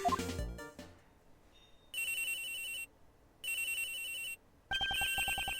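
A phone ringtone from the video game Ace Attorney Investigations 2 rings in three bursts, each a bright, buzzing electronic trill of about a second, separated by short pauses after a brief musical jingle.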